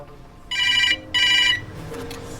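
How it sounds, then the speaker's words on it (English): A telephone rings twice in short electronic bursts, fairly close, over a low background hum. "It's ringing."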